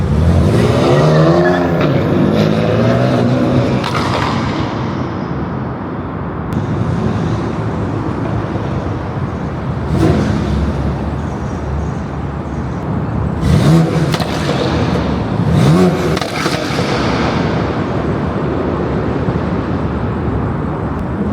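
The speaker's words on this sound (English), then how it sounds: "this is gonna be an exhaust clip of my car and truly how loud it is" A car engine roars loudly, its exhaust revving up repeatedly in sharp bursts over a continuous throaty rumble, very close.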